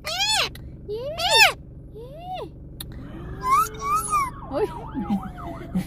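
A talking galah parrot imitates an ambulance siren with rising and falling wailing whoops, loud and close, some pitch sweeps overlapping near the end.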